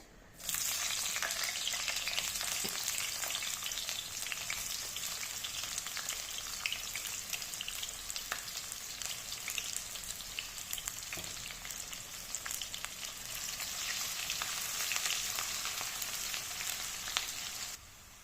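Onions sizzling in hot mustard oil in a pan, a dense, steady crackling hiss with scattered pops, close and continuous with no talk.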